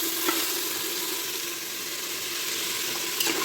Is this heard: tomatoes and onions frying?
yes